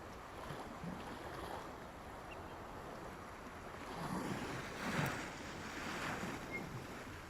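Beach ambience in an audio drama mix: soft ocean waves washing in and out with some wind, gentle and steady, swelling slightly toward the end, with no talk.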